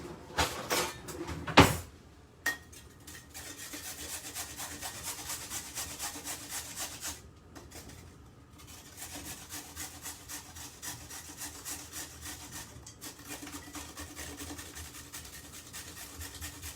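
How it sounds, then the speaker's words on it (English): A carrot is grated by hand, a steady rasping, scraping rhythm of repeated strokes running close and clear after a few knocks and clatters at the start, with no talking. "So I'm going to grate this carrot."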